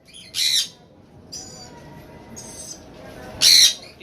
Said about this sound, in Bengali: একটা লরি রয়েছে খুবই ফাইন